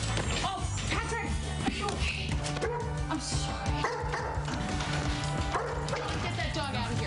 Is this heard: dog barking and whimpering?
yes